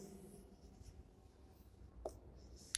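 Chalk or marker strokes on a board during a physics lecture on rectifier output, faint scratchy writing sounds in a quiet room with a couple of sharper taps near the end.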